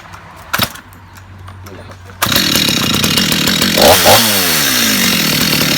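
STIHL MS 250 chainsaw revving up and biting into a thick block of wood, a loud rising engine whine after a quieter idle and a clunk at the start.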